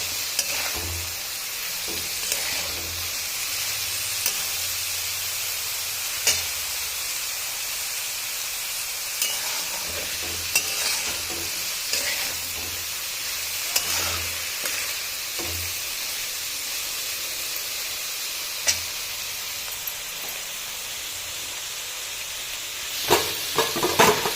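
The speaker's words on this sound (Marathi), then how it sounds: "हे पण तेलामध्ये असं छान फोडून घ्यायचं." Pulao ingredients that were boiled and steamed are fried and stirred in hot oil. A steady sizzle continues throughout, with the scrape and clack of stirring rising every few seconds. No one speaks.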